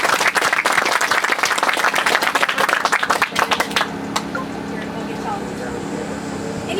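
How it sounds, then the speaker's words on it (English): An outdoor audience at a school groundbreaking ceremony applauds with dense, loud clapping that thins out after about four seconds and gives way to a steady background hum. "One more round of applause for the speakers today."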